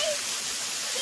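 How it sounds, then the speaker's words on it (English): A waterfall roars as a steady broadband rush of falling water, close by and continuous; a voice speaks briefly over it. "You want to touch the waterfall?"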